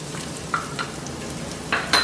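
Red chili pepper, chopped ginger and a cinnamon stick stir-fry in a hot pan for a beef stew, with a steady sizzle and a few sharp scrapes and clinks as a utensil stirs them.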